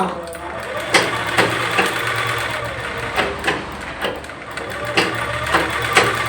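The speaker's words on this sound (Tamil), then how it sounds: "இப்போ மேல் பக்கம் ஷோல்டர் பக்கத்தில் இருந்து தைச்சிக்கிறோம்" A sewing machine stitches a blouse along the shoulder seam, its motor whirring close and steady under a low hum, with regular thumping needle strokes about once a second.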